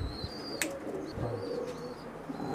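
Soft pigeon coos murmur near the loft while faint chirps and a brief flutter of wings break through a quiet background; low, gentle and unhurried, with no talking.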